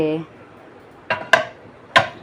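Pots and dishes piled in a kitchen sink give three sharp metallic clinks spaced about half a second apart, after a short burst of voice at the start.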